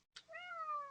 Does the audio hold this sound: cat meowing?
yes